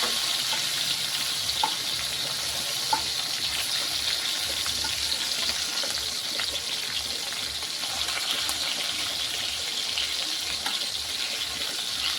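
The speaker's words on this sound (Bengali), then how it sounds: "তো আমি অনেকটা তেল দিয়ে দিয়েছি, দিয়ে তারপরে মাছগুলোকে ভেজে নিচ্ছি।" Fish pieces frying in a generous amount of hot oil make a loud, continuous crackling sizzle that holds even and close from start to finish, with no talking.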